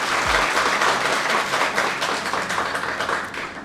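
An audience at a university launching ceremony for a BSc Engineering Technology program claps in sustained, dense applause that fills the hall, with a dull bump near the start.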